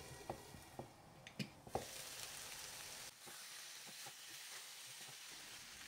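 Small pieces of pollock sizzle and fry in a hot pan over high heat, a steady crackling hiss punctuated by a few sharp pops and clinks of a utensil early on, settling into a softer, quieter sizzle.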